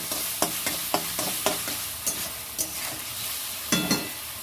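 Onion, ginger and garlic fry in a pan, a steady sizzle broken by repeated scraping stirs in an irregular rhythm, close and fairly loud with no voices.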